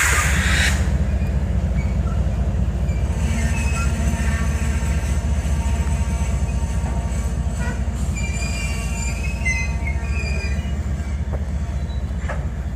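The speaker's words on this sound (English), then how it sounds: "Some nice clean trains." A passing train of clean, brand-new railcars rolls by close and loud, a steady low rumble with squealing wheels and metallic screeches throughout.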